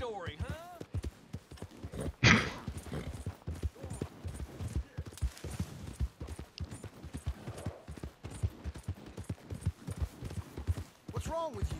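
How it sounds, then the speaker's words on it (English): Rhythmic clip-clop of horse hooves trotting steadily throughout in the video game Red Dead Redemption 2, with people talking over them and a sharp crack partway through. "Literally just riding my horse."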